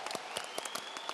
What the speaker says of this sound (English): Let's give them a round of applause for a job well done.